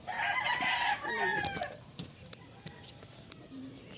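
A rooster crows once, fairly close, in the first second and a half, followed by quiet background with faint clicks.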